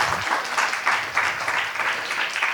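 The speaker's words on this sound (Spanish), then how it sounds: "este aplauso es para vos en realidad" Audience applause from a crowd at a live talk on Borges, steady dense clapping filling the whole stretch with slight rhythmic swells, close and fairly loud.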